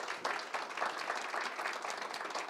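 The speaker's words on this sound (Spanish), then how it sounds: "Un aplauso para Talia." A conference audience applauds a panel speaker at a geopolitics forum with continuous, fairly faint clapping from many hands, steady and even throughout.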